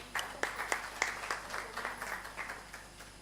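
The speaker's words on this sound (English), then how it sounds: "a big round of applause for Professor Vallaramati" Scattered audience applause for a professor at a valedictory conference session, a modest group of hands clapping unevenly and fading, fairly quiet and distant.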